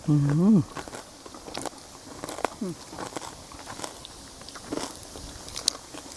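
Chewing crispy Thai fried pork belly (moo krob) in a home kitchen: a short spoken voice at the start, then scattered close crunchy bites and soft chewing clicks.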